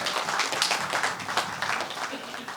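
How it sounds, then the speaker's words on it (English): An audience at a lecture on Sanatana Dharma gives a round of applause, with dense, steady clapping that fills the whole moment without a break. "Big round of applause."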